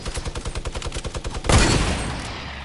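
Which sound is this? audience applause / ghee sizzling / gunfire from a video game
gunfire from a video game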